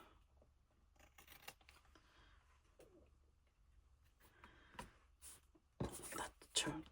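Scissors snip close by in a few quiet, crisp cuts, followed by a louder rustling burst of handling, with soft whispered talk and faint bird cooing in the background.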